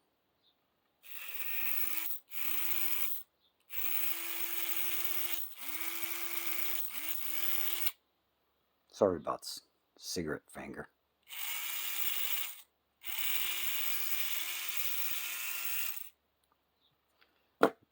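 A Tyco 440x2 HO slot car with shims fitted on the motor and rear end whines in several steady bursts, stopping and starting between runs, with a brief voice partway through.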